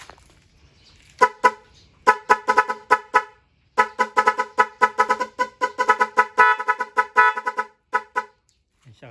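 A motorcycle air horn sounds in a rapid series of short, sharp blasts, some in quick bursts and some held slightly longer, loud and close.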